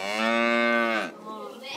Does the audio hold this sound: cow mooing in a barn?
yes